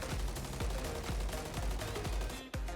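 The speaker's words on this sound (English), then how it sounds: "This gun shoots like an absolute laser." An ACR-style MCW assault rifle firing in Call of Duty: Modern Warfare III: a rapid, steady automatic burst of several shots that cuts off at the end.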